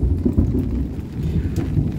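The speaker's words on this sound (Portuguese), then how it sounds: "Pois é, gente, muita chuva." Heavy rain pours steadily outside a house and garden, with a low rumble of thunder beneath the constant hiss of falling water.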